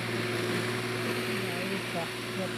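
Swaraj 855 tractor pulling a fully loaded trolley, a steady low diesel drone with a constant engine hum throughout, moderately distant and fairly quiet.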